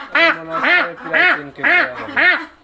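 A 37-day-old farm duck, just caught, quacks loudly and close in five evenly spaced nasal calls.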